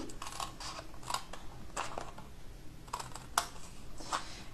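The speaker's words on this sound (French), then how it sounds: "Au pli suivant, je coupe encore jusqu'au deuxième pli." Scissors snip through folded paper card in a series of short, crisp cuts at an irregular pace, close and fairly quiet, with no talking.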